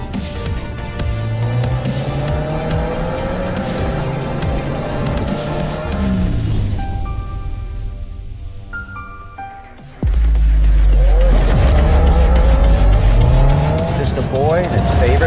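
A 2022 Subaru WRX driven hard through twisting corners on a closed road, with engine revs rising and falling, tire noise, and a sharp surge in power after a brief lift, steady and close.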